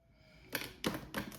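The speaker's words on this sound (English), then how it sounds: "One more shuffle." Tarot cards being shuffled make three quick, crisp riffling bursts, close and fairly loud, each a short flurry of rapid card snaps separated by brief pauses.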